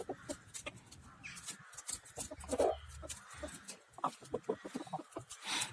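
Chickens cluck intermittently at close range in a small coop, with scattered short calls and some background rustling.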